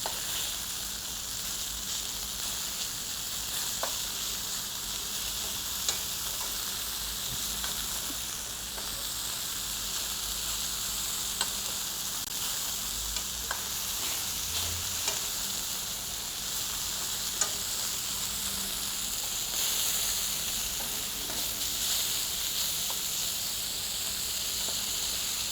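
Venison browns in a hot pan on a stovetop, giving off a steady, close sizzle and hiss with occasional pops and light scraping that continue without a break.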